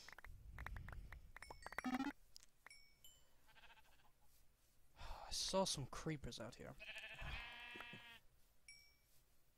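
Blocky sheep in the Minecraft video game give short synthetic bleats in the second half, loud and close, following a man's speech and scattered game sound effects.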